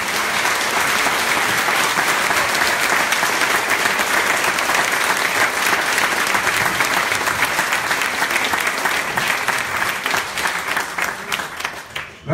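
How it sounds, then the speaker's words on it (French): Sustained applause from a conference audience welcoming a speaker at a teaching event, dense and steady for about ten seconds before thinning out near the end. "je voudrais juste qu'en guise bien d'introduction, mais surtout de bon accueil, on applaudisse pour ça et pour ce qui est."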